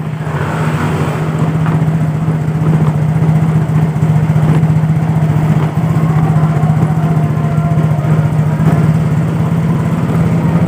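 A Yamaha Mio GT scooter engine fitted with imitation CVT parts runs steadily, with a loud, close, buzzing drone and heavy vibration that holds for about ten seconds without talk.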